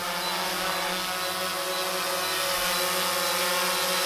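Soft, steady whirring hum of an Autel EVO drone's small propellers hovering at a distance, constant and fairly quiet with no voices.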